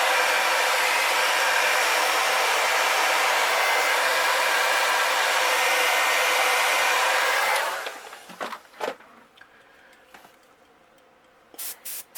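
A heat gun blows steadily and loudly for about eight seconds, a broad continuous hiss while heat-setting paint on a golden perch crankbait, then cuts off, leaving faint handling clicks and taps.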